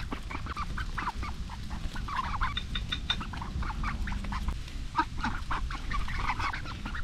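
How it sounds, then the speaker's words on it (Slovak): A flock of ducks at a carp fishing pond quack and honk repeatedly while being fed bread, a busy chorus of overlapping calls close by over a steady outdoor background. "Keď ryby neberú, aspoň kačičky budeme krmiť."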